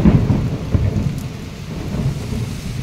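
Rain falls steadily with a deep, rolling rumble of thunder, loud and close, the low roar swelling at the start and lingering under the wash of rain.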